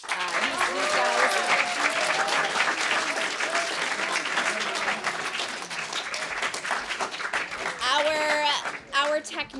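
Applause and cheering from an audience at a school spring-term awards event for a cast of actors, continuous clapping with shouted voices and whoops mixed in, building and staying loud.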